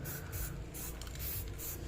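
An aerosol can of spray paint hissing in steady, close bursts, forming a continuous broadband spray with slight pulses over a low background hum.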